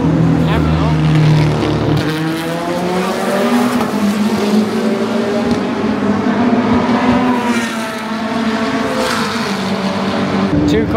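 Hypercars racing in the WEC Lone Star Le Mans endurance race at Circuit of the Americas, engines roaring and fading as cars pass at a distance, under continuous talking.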